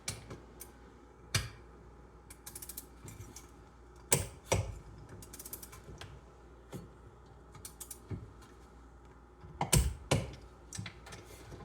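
Bolts are tightened on an antique Briggs engine: scattered close clicks, creaks and metallic ratchet-like ticks come at irregular intervals, faint against a quiet background, with some bursts grouped together.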